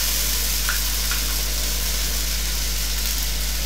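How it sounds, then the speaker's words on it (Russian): Tomato paste fries in a pan as a continuous, fairly loud sizzling hiss that holds steady throughout, with no talking. "теперь нужно пережарить томат"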